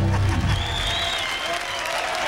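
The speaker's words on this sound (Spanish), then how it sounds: "¡Aplausos!" A studio audience bursts into steady, full applause after a joke on a Mexican TV comedy program, loud and sustained for the whole stretch with no pauses.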